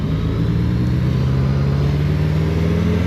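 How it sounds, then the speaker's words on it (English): A Suzuki GSX-S1000GX+ motorcycle engine pulls hard under acceleration with a loud, steady drone, its pitch climbing smoothly through quick-shifter gear changes over constant wind rush. "Is that a quick shifter or what?"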